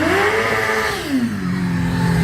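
A 1000 cc motorcycle drifts at low speed during a stunt show, its engine loud and close, revving high, then sweeping downward as it swings around, with no talk over it.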